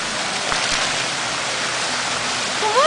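Water pours steadily at an outdoor fountain in Vail, a continuous rushing splash close by, with a faint whistle-like tone near the end and no clear talk.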